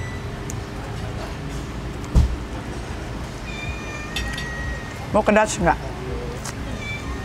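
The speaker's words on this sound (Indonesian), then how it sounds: "Tapi kok ada suara kucing?" A cat meows a few times in short rising cries over steady outdoor hum at an amusement park in Berawa, Bali, while people talk nearby.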